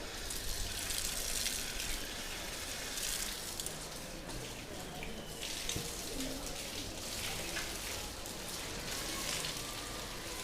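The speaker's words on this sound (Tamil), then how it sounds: "விரலுடைய இடுக்குகள்லாம் தேய்ச்சி கழுவணும்" Running water splashing steadily over hands as the fingers are rubbed between each other during wudu ablution, a continuous close spattering wash with no pause.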